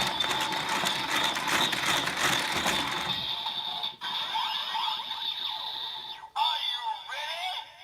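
A Kamen Rider Build DX Nebula Steam Gun toy plays its Bat Engine best-match sound effect, a loud, busy electronic blast of synthesized noise and tones that thins out into a sustained high whine with brief dropouts.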